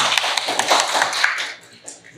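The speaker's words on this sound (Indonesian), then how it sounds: "Tepuk tangan" Audience members clap hands in a classroom, a quick patter of overlapping claps that fades after about a second and a half, followed by a voice speaking.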